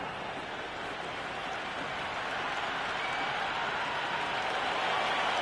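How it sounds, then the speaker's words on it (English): A stadium crowd roars steadily in the Cricket 26 video game, a dense, continuous wash of cheering and applause that holds at an even level without a break. "The crowd is electric right now."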